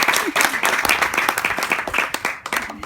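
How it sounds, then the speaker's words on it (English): Wedding guests clapping, a fairly close, uneven round of hand claps with distinct individual slaps, lasting a few seconds. "You can clap a little bit."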